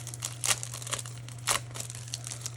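A package being opened and stickers pulled out, close crinkling and rustling of plastic and paper with several sharper crackling bursts over a low steady hum.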